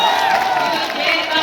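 Audience at a live mushaira poetry gathering in Baskhari, Ambedkar Nagar, cheering and clapping in a loud, steady wash of crowd noise with sustained shouted voices over it.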